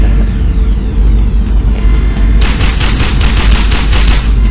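Fast, steady gunfire in a shooting video game, a loud continuous rattle of close shots that grows harsher and brighter partway through, with no voices.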